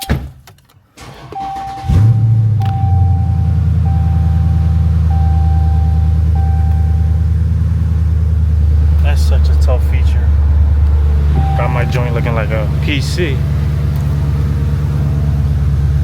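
A rebuilt Chrysler 300 Scat Pack with an exhaust fault fires up after a thud, then settles into a deep steady engine rumble as it pulls away, with brief talk and clicks over it.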